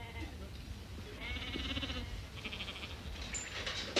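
Sheep bred for improved wool growth bleat twice in quick succession, faint and somewhat distant over a steady outdoor background rumble.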